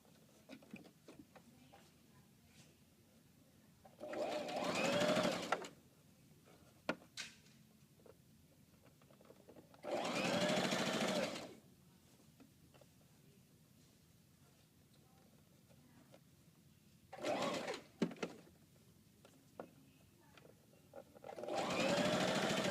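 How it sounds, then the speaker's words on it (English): A sewing machine stitches fabric in four separate bursts of a few seconds each, steady and fairly close, with quiet pauses between them as the work is flipped and continued from the other side. "I just flip again and continue sewing from this side."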